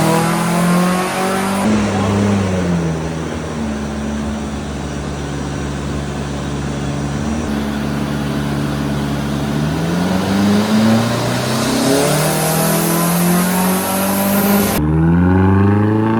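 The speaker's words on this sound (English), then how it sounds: "We're gonna put this thing on the dyno and see what kind of numbers we make." A Nissan SR20 engine revs hard on a dyno in a continuous loud pull, its tone sweeping steadily up and down for the full length. Voices can be heard faintly beneath it.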